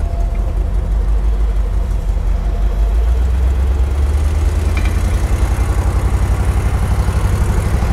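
The engine of a 1957 Ford Fairlane 500 Skyliner idles with a deep, steady, pulsing exhaust rumble that is loud and close, continuous for the whole stretch with no talking.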